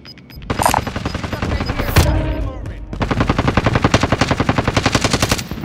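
Automatic gunfire rattles through a video game shootout, loud rapid bursts from close by, a brief pause, then a long, steady volley of rhythmic shots.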